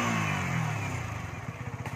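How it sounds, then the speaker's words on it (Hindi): A newly bought motorcycle's engine runs close by, a steady idle that settles into a rhythmic, pulsing putter, with no talk over it. "कॉन्ग्रेचुलेशन सारांश की न्यू बाइक"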